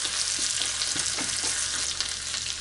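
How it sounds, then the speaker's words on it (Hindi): Garlic fries in a hot pan for a Lehsun Palak Sabzi, giving a dense, steady, crackling sizzle that stays loud and even throughout with no voices. "जब हमारा लहसुन ऑलमोस्ट पक जाएगा तब हम इसमें तिल डाल देंगे।"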